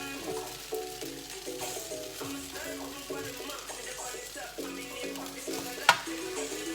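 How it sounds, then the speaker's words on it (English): Fried rice being stirred in a pan, with a steady low sizzle under repeated scraping and clinking strokes of a utensil, plus one sharp clack near the end. "we're going to give that another quick stir"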